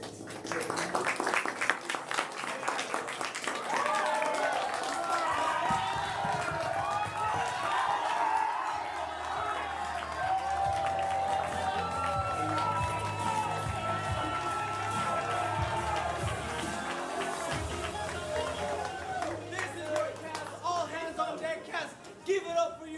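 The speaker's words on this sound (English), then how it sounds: "shouting the name of this show, that phrase being all hands on deck, and then blow up into applause" A studio audience claps and cheers for several seconds, with a swell of crowd noise near the start, then quieter chatter and intermittent claps under a host's voice.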